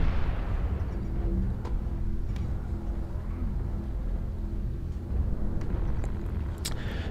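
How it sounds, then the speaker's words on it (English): Missile impacts and weapon fire rumble through a mech combat battle in Mechwarrior Online, a low, continuous barrage with a few sharper thumps, loud and close, with no talking. "Warning, incoming missile."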